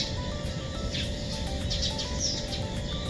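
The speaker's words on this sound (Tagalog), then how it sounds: "Naririnig nyo ba? Ang daming ibon." Many birds chirping in the early morning at a Palawan resort, scattered high tweets and calls repeating over a constant low ambient rumble, moderately near and fairly faint.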